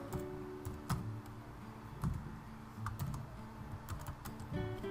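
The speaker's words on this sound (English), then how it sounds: "I'm typing something, I am in HTML." Keys clatter on a computer keyboard in irregular bursts of clicks, close and fairly quiet, with no voices.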